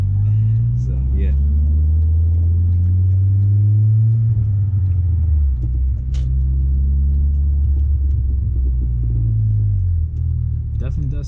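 Audi B6 A4 with a full ECS catback exhaust driving at night, a loud, close engine drone rising and falling through several revs and gear changes inside the car, with brief voices over it.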